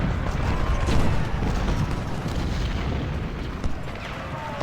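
Artillery cannons fire during a Civil War battle in the game Ultimate General: Civil War, with dull booms and bursts rolling continuously through a dense battlefield din, no voices present.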